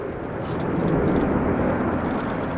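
An Airbus A400M military transport aircraft climbs after take-off, its engines producing a steady, loud, broad roar that holds at constant strength throughout.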